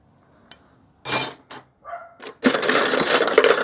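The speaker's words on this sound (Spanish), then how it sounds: "Uno de mis alicates de vieja escuela, sin aislación, muy a la antigua." Old-school uninsulated metal pliers being handled, with a few sharp metallic clinks and knocks up close. A longer, denser rattle of metal follows near the end.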